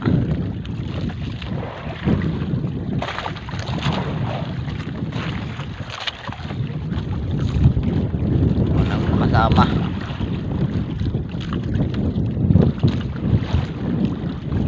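A small wooden bangka drifting alone on open water under a dark, rain-threatening sky, with strong wind buffeting the microphone, water slapping the hull and someone speaking briefly.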